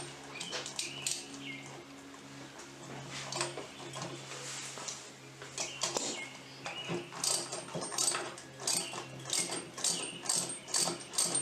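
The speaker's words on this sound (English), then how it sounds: "then what I'm going to do is come around with a ratchet and socket" A ratchet and socket tighten an eye bolt in a garage gym, making rapid rhythmic pawl clicking that grows steadier and more pronounced toward the end, with some metallic handling noise.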